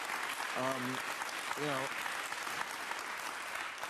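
A studio audience breaks into steady applause that fills the whole stretch, with a voice speaking briefly over the clapping.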